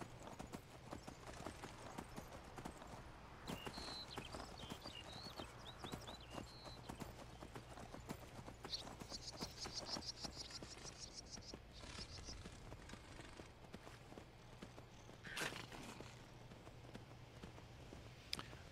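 Warhorse hooves clip-clopping in a video game with the Convenient Horses mod, a steady walking rhythm of hoof knocks running throughout over game ambience and music, with an occasional faint whinny.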